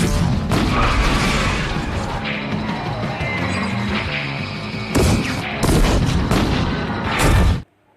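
Dense, loud bursts of film gunfire and crashing impacts during a chase in The Terminator (1984), with sharp blasts punching through a constant roar before cutting off abruptly at the end.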